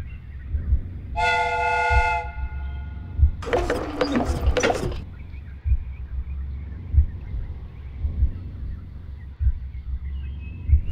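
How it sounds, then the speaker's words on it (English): A video game train's steam whistle sounds once with a clear tonal blast, followed by a burst of hissing steam, over a steady rhythmic chugging rumble. "The steam whistle is ready to be used."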